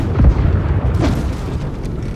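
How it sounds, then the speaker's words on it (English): Ship cannons firing a broadside in the naval battle game Blackwake, a heavy low boom followed by rolling rumble and secondary blasts, loud and close. "Right side cannons fire."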